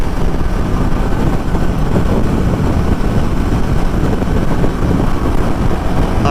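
A 2024 Suzuki Katana motorcycle runs at highway speed, around 140 km/h near 6,000 RPM, as a dense continuous roar of engine and wind buffeting, loud and unbroken throughout.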